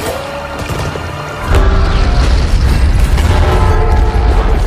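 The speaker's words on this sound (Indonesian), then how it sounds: "percikan api yang menyebar bahan bakar itu pun menyebabkan salah satu pesawat meledak" A passenger plane blows up in a disaster film scene about a comet striking Earth: a sudden deep, heavy blast hits at about 1.5 seconds and rolls on as a loud, sustained roaring rumble.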